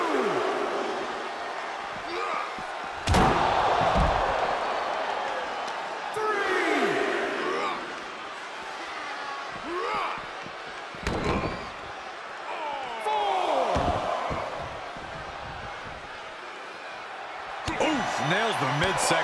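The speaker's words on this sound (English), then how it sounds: "The sound of this crowd is deafening" Loud wrestling arena crowd roaring throughout an IWGP championship match, a dense sustained swell of voices with sharp slams and impacts punching through, under an excited commentator talking over it.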